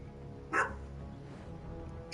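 A puppy barks once, sharp and close, at its reflection in a mirror, followed by quiet room tone.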